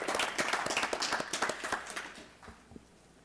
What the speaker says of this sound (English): So if we can give them a round of applause as well for making it.